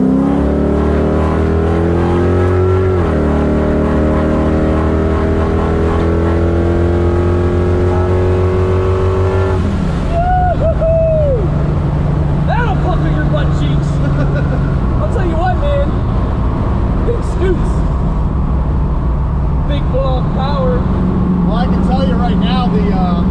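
A Camaro and a classic car accelerate hard side by side in a race pull, engines rising steadily in pitch over about ten seconds before a sudden shift. Lower, busier engine roar and wind noise follow, with people talking over it.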